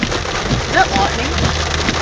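Heavy rain pours steadily during flash flooding in Ballarat, a dense continuous hiss throughout, with faint voices talking underneath.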